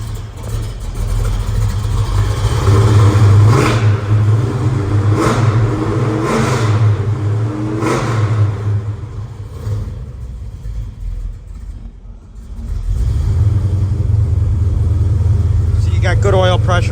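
A cold 1971 Chevrolet Chevelle engine runs close by, holding a deep rumbling idle and rising in several revs before settling back. Someone talks over it throughout.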